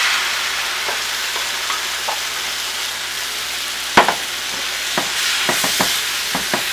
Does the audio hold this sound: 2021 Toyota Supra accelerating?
no